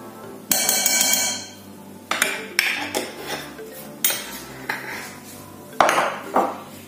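A teaspoon adds turmeric to spices, producing a series of loud, close metallic clinks and knocks of cutlery against dishes at irregular intervals, each ringing briefly.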